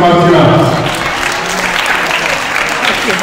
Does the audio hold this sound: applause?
yes